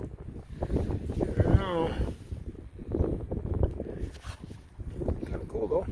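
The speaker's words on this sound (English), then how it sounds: "It's pretty windy right now" Wind buffets the microphone on a high mountain trail near Fox Lake in the High Uintas Wilderness, a rough, gusty rumble rising and falling under people talking.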